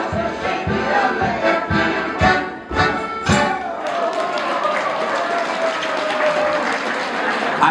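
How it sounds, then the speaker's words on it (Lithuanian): Audience applause following a tango dance at an International Day of Older Persons commemoration, opening with several loud thumping beats and then settling into sustained, dense clapping that fills the room. "Ačiū už plojimus, o ypač šokėjim už gražų šokį."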